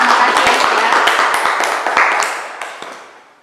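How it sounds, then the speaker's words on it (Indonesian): Students in a classroom group-guidance session clap for a classmate, a short burst of scattered, fairly close hand claps that tapers off after a few seconds. "tepuk tangan buat Aisyah"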